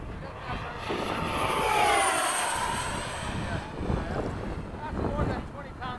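FMS 70mm F/A-18 hot rod model electric ducted-fan jet flying at a field, a loud rushing turbine-like whine sweeping past with a rising then falling pitch and steady wind buffeting throughout.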